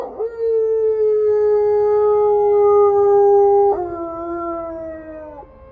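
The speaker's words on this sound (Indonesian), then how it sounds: "Lolongan anjing yang terdengar melengking panjang di kejauhan" A single distant dog lets out a long, drawn-out howl with a wavering pitch that dips and trails off, then a second slightly lower howl, with no voices.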